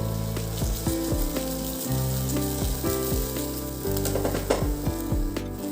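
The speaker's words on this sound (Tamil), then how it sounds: "இது எல்லாத்தையும் நல்லா வதக்கி விடுங்க." Garlic, mustard seeds and cumin sauté in oil for potato brinjal masala, a loud close sizzle broken by repeated scraping strokes of a spatula against the pan, with no voices.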